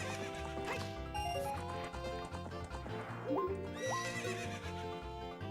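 A video game horse whinnies repeatedly over rhythmic clip-clopping hooves, with game music layered underneath throughout.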